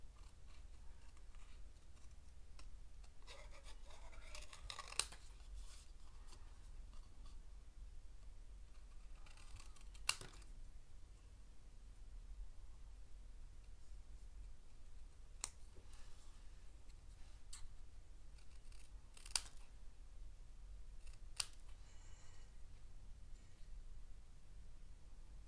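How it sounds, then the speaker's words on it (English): Scissors snipping around a stamped penguin design on a paper card, a few faint, sparse clicks and short cuts spaced several seconds apart in a quiet room. "I'm going to cut right up to the color"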